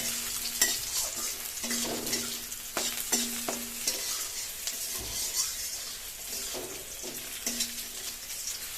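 Dried red chillies sizzle in hot oil in a pan for a bottle gourd and lentil-bori curry, with a steady crackling fry under repeated scraping and clinking strokes of a spatula as they are stirred.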